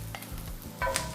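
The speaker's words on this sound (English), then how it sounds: "we're gonna saute these for about 5 minutes" Onions sauté in a pan, giving a brief, soft, steady sizzle with a faint scrape near the end.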